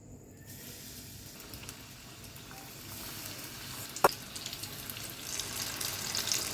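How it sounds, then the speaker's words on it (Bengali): Coated fish fingers frying in oil, a quiet soft sizzle building gradually, with a sharp clink of a utensil near the middle and a louder hiss toward the end. "এবার এগুলোকে ভাজতে হবে।"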